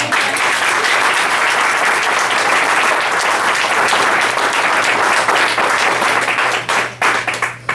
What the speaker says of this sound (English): I'm going to give you a round of applause on my own because I think you deserve it